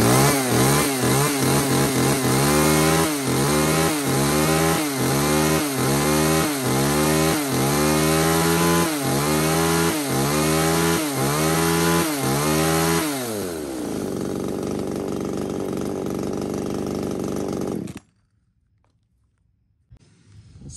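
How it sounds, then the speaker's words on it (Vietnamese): A Tanaka chainsaw with a 35 cm cutting bar runs loud and close, its engine revving up and down in quick repeated bursts, then holding a steady high whine before cutting off abruptly. "Con máy cưa hiệu Tananka giật cực kỳ nhẹ nhàng"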